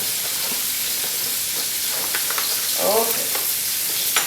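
Braised oxtails fry in a skillet with a loud, steady sizzle and crackle, some brief stirring scrapes and a faint bubbling burst partway through.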